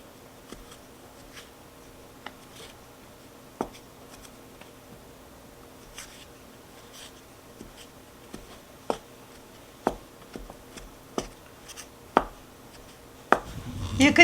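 Softened butter and confectioners' sugar being worked together by hand in a bowl for an eggless vanilla cake, heard as sparse, soft clicks and taps that grow sharper and more frequent toward the end over a quiet room.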